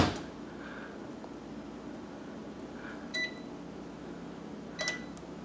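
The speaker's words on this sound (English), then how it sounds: "Microwave works." Two short electronic beeps from a microwave oven, spaced a couple of seconds apart over a quiet room hum.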